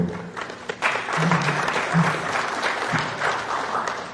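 A seated audience at a panel session gives a round of applause, a steady wash of clapping that swells and holds, with a few faint voices underneath.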